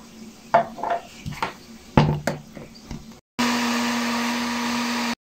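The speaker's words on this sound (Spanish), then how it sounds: "Agregamos agua para poder molerlo y lo llevamos a la licuadora." A kitchen blender grinds tomato and chile with water, a steady loud whir that starts abruptly after a few seconds of clattering kitchen sounds.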